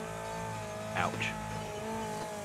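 Wreckfest car drifting on a multiplayer track, with a steady engine drone underneath and a short, sharp tire squeal rising and then chirping again briefly, all at moderate loudness.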